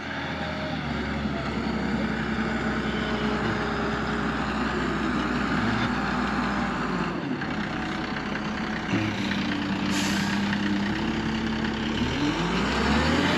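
A dump truck engine runs steadily while unloading dirt onto a pond dam, a loud, continuous rumbling drone with shifts in pitch as the engine revs and settles.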